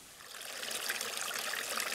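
A small wilderness stream in Lapland in autumn babbles and trickles steadily, a bright continuous splashing close by with no road noise or voices.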